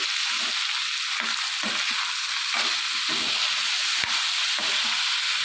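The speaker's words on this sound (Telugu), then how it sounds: "ఇలా ఇవన్నీ బాగా కలుపుకుని ఫ్రై చేసుకోవాలి" Ivy gourd (dondakaya) dusted with turmeric stir-fries in a pan, giving a steady close sizzle with soft intermittent scrapes of stirring throughout.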